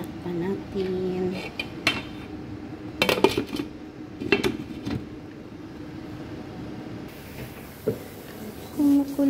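Metal clanks and clatters of cookware, a few sharp knocks spaced out over a steady background hum, as a lid is set onto a pot of boiling crabs.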